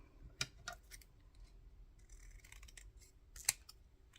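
Scissors snip paper for a handmade waterfall junk journal, a few sharp, quiet cuts spaced apart with soft rustling between them.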